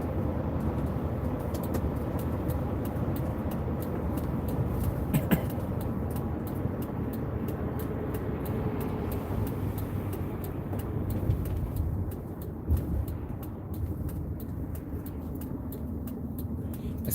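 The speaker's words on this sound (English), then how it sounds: "when I'm braking, it makes this, like, whirring sound" A car's brakes whir while braking on a drive, heard as a continuous mid-level whirring rumble from inside the vehicle, steady throughout with no talk.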